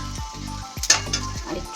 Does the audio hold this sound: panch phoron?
yes